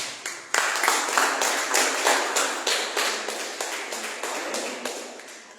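Church congregation applauding in unison, a steady loud round of rhythmic claps that gradually fades over several seconds.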